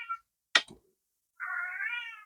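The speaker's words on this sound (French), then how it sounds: "Désolé pour mon chat, comme d'habitude." Pet cat meowing close by in a quiet room, a brief chirp then a drawn-out, clear meow with little else around it.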